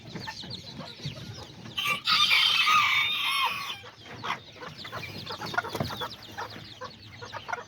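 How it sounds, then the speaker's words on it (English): Aztecas and serama chickens with little chicks clucking and peeping in a backyard flock, soft scattered calls with a brief burst of louder squawking around the middle, fairly faint overall. "look at these little chicks"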